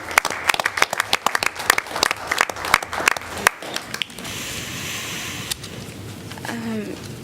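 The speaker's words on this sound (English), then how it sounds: "We need to give her a round of applause." A round of applause breaks out at a League of Women Voters legislative forum in Iowa City, with dense, sharp claps for about four seconds that fade into a softer crowd murmur and faint voices.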